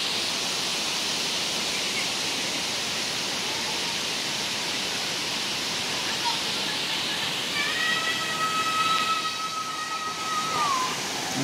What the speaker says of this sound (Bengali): অনেক সুন্দর একটা ঝর্ণা এখানে,